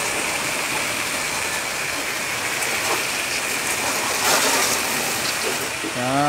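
Water is poured in a heavy, continuous gush over a car roof during a hand car wash, a close, steady splashing wash with a brief voice near the end.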